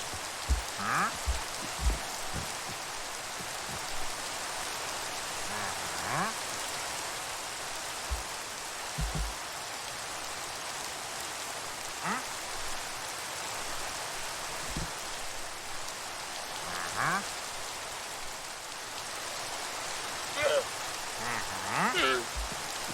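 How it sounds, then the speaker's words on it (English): Steady hiss of rain falling on surfaces in Minecraft, even and moderately loud, with scattered light drips and faint patters throughout. "Doesn't help that it's raining either."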